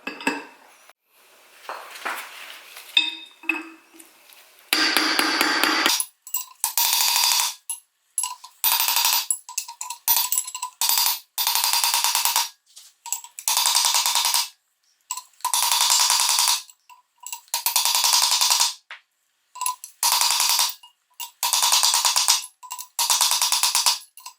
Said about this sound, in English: I go ahead and just hammer it out.